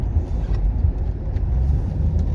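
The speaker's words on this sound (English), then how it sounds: "Drive around Buxton looking for a parking space." A car driving around Buxton, a steady low engine rumble and road noise heard from inside the car, continuous and fairly loud, with no talking.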